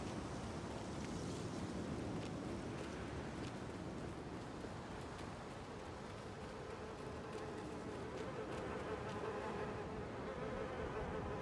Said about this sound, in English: Oh god, I hear bees.